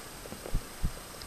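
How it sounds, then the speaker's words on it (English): A heartbeat effect from the horror game One Late Night thumps twice in a low, muffled lub-dub pulse over a faint background hum. "That heartbeat!"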